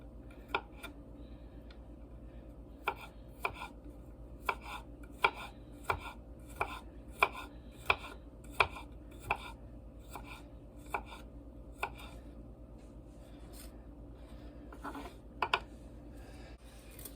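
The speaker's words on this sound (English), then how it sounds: "we're going to start with slicing up some garlic" A knife slices garlic on a cutting board in sharp, separate taps. The chops come in an uneven rhythm, close but fairly quiet, and there is no talk.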